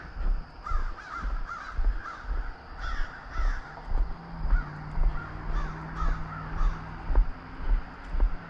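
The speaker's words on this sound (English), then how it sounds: "Squawking up a storm." Crows caw repeatedly outdoors, a rhythmic series of harsh squawks at moderate distance, with a low hum beneath and no talk.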